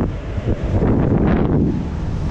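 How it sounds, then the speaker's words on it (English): Strong wind at height atop an amusement park ride buffets the microphone in a steady, roaring rush, loud and close, with no voices. "Probably sounds awful this is how windy it is"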